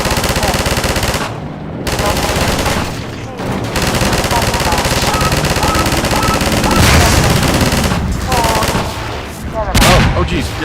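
Sustained rapid fire from a mounted turret gun in Half-Life 2, loud and continuous with brief gaps between bursts, dense rattling shots running almost the whole time.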